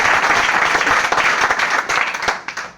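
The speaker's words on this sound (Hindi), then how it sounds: "अपनी ग्रेट अपलाइन विजय विरोधिया सर को के लिए एक बार जोरदार तालियां" Loud, dense applause from a crowd at an RCM business meeting, steady clapping that fills the whole stretch and tapers slightly toward the end.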